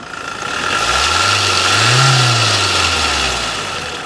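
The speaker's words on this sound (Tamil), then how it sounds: "வண்டி ஸ்டார்ட் ஆயிடுச்சு இன்ஜினோட நைஸை லைவாக" A used automatic car engine runs nearby and revs once, the pitch rising smoothly and falling back to a steady idle, with no voices.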